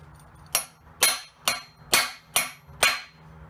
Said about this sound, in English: Just a little bit more tappy tappy tap with the hammer.